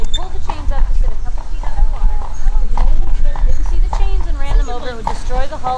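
Horse hooves clip-clop steadily on the street as a carriage rolls through St. Augustine, Florida, loud and close, with people talking over the rhythmic hoofbeats.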